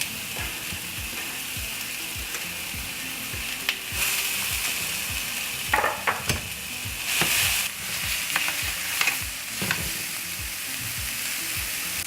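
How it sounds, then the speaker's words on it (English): Zucchini noodles sauté in olive oil in a pan, a steady close sizzle broken by intermittent utensil scrapes and taps, with no voices over it. "Now I'm gonna saute the rest of the zucchini noodles"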